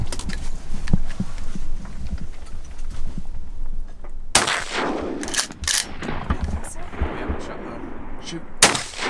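A shotgun blast goes off outdoors while hunting greenhead ducks, a sharp loud report followed by a few more bangs and echoes, with voices talking quietly before the shot.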